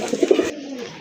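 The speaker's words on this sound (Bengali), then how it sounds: "এখানে আরেক জোড়া কবুতর দেখতে পাচ্ছেন" A single pigeon gives a short, rounded coo, close and clear, with a few soft throaty pulses that fade out.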